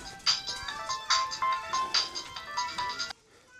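A phone ringtone plays a repeating electronic melody for about three seconds over light background noise, then stops abruptly.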